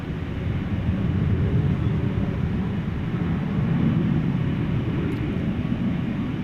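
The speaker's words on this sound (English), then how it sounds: "We will deviate from our plan to take off to bring you this FedEx liftoff from the east side." A FedEx Boeing 767 lifts off at night at Dallas/Fort Worth Airport, its engines a loud, steady low roar that holds throughout, swelling slightly midway with broadband rumble and no voices over it.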